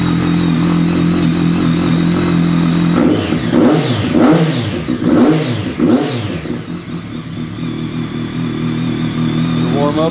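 A BMW K1200S motorcycle fitted with a Remus PowerCone exhaust idles loudly, then is blipped through several sharp revs that rise and fall before settling back to a steady idle.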